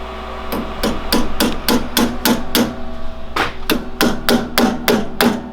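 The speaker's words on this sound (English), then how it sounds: "There's a Big Daddy hammer right there if you want to use it." Steady hammer blows ring out close by, about a dozen sharp metallic strikes in an even rhythm with a short pause midway, no talking.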